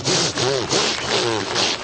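A voice mimics a blade sawing through plywood, with rasping, rhythmic strokes that rise and fall in quick succession, close and loud.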